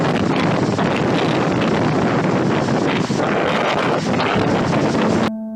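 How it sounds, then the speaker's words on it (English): Strong wind from Typhoon Jolina in Masbate roars and buffets the microphone without letup, a dense, loud rush that cuts off abruptly at the end. "Strong winds and intense rainfall were experienced by this inclement weather."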